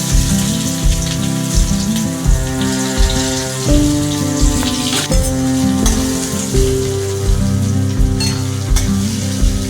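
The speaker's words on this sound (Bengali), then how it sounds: "পেঁয়াজটা হালকা লাল লাল করে আগে ভেজে নেবো।" Chopped onion frying in oil with cloves and cardamom, a loud close sizzle under regular rhythmic spatula strokes scraping the pan, steady throughout with no voices.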